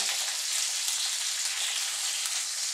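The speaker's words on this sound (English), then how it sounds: "be careful because it does splatter, start turning over the salmon" Salmon fillet sizzling and spitting in a hot pan as it is turned over, a steady bright crackle of frying with small pops, close and continuous without any talk.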